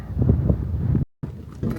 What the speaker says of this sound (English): It could be a little less windy though.